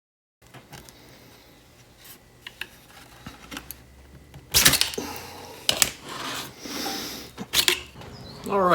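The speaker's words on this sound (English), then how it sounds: "I think I might have to just sand a little bit more off." Sandpaper rasps against a 3D printed part for a Galaxy's Edge lamp in short, uneven bursts, faint at first, then louder scrubbing strokes in the second half with no talking.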